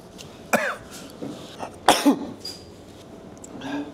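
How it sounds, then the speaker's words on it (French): Two sharp sneezes from a chili-triggered sneezing fit, about a second and a half apart, close and loud, followed by softer breathing sounds. "J'ai une crise d'éternuement à cause du piment."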